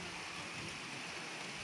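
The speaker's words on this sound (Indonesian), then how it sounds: "di bawah adalah aliran sungainya ya" A river flows beneath a steel-piled footbridge linking two village areas in Puraseda, giving a steady, faint broadband rush of water with no pauses and no talk.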